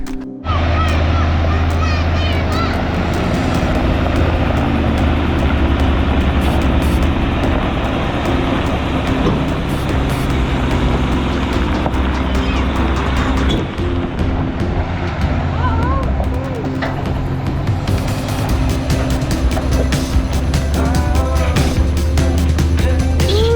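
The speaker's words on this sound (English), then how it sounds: "here we got our gravel truck coming." A gravel truck rolls in on a rural house pad site, a loud sustained low engine rumble with gear and tire noise throughout, swelling toward the end.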